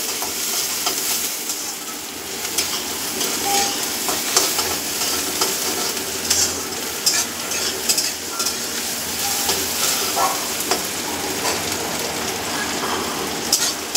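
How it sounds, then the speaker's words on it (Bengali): Chicken pieces for chicken rolls fry in hot oil with a loud, continuous sizzle and crackle, close and unbroken, with occasional stirring clatter and no talk. "চিকেন রোলটা বানাবো, এগুলো ভালো করে ভেজে নিতে হবে।"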